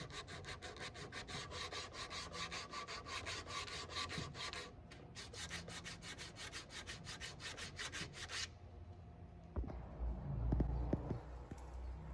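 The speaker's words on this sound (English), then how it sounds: "Some of the finer grooves and details I ended up sanding by hand." Fine grooves on a wooden bar cabinet are sanded by hand in fast, even back-and-forth strokes for about eight seconds, ending in a few light knocks and handling sounds.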